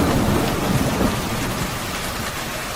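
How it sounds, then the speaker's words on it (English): A thunderstorm pours heavy rain in a steady, dense roar, with deep rumbling thunder rolling underneath throughout. No voices are heard. "This storm's trying to take us back."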